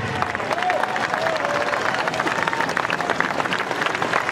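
Applause from a large outdoor protest crowd against Macron, dense steady clapping mixed with crowd noise and cheering, loud and continuous throughout.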